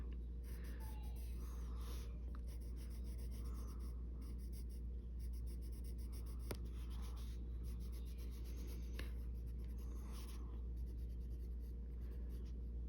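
Colored pencil shading across a page of an adult coloring book, a continuous close scratchy rubbing made of rapid back-and-forth strokes, with no speech.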